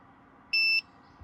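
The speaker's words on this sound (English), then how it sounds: "Here we go, we're getting an alarm." A portable power station sounds its overload alarm as one short, piercing electronic beep against a quiet background.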